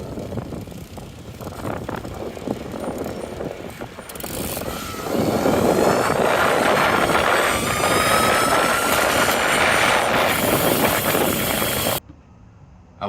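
An electric motor on a pedal bike kicks in when the throttle is applied, a mechanical whir joined by a rising whine that holds loudly for several seconds before cutting off abruptly.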